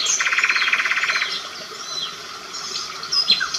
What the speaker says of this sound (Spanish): Es bello el trino del ruiseñor,